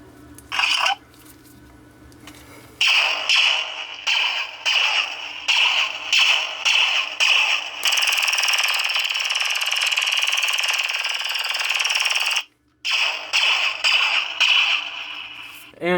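Loud, harsh electronic blaster shots fire in rapid bursts from a small speaker in a custom E11/F11 airsoft tracer blaster, with a sustained buzzing tone in the middle and brief pauses.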